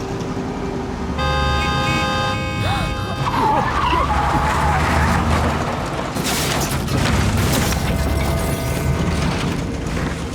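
A car in a dramatic road accident scene skids and crashes. A long tire squeal gives way to loud bursts of crunching impact over a constant engine roar.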